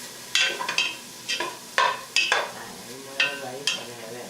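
Ingredients for coq au Riesling frying in a pan until crispy, a run of separate scraping stirs and bursts of sizzle in uneven rhythm, close and fairly loud, no voices.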